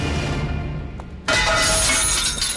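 A car's glass window is smashed: a sudden, loud burst of shattering glass cuts in after a quiet lead-in, followed by a bright scattering of breaking shards.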